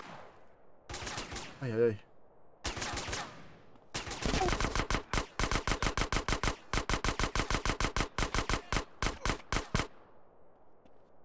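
An AK rifle in GTA San Andreas fires a few short bursts, then settles into a long, steady run of rapid automatic shots before stopping, with a brief exclaiming voice near the start.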